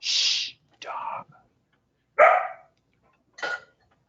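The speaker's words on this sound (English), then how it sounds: "Shh, dog." A dog indoors barks four times, close and sharp, each bark a short burst separated by pauses of about a second, in an otherwise quiet room.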